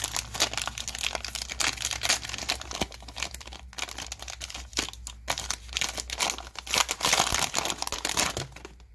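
Steady, close crinkling and crackling of a 2022 Donruss Baseball fat pack's plastic wrapper being torn open and handled, continuous for several seconds with no talk.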